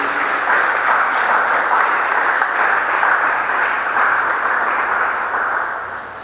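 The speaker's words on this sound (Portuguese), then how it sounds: "Vamos aplaudir o nome do Senhor Jesus." A church congregation applauding together, a dense sustained wash of clapping that holds steady and fades slightly at the end, with no talking.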